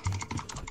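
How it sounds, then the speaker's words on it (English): Hard, fast keystrokes on a computer keyboard, a quick burst of several sharp clacks close to the microphone. "You gonna break your keyboard, bro."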